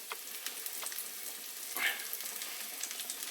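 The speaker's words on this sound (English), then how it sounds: "Into that I want to put my garlic, just 1 clove of garlic" Finely chopped garlic, a single clove, sizzling steadily in a hot pan with a faint, even frying hiss and a brief brighter spit near the middle, with no talking.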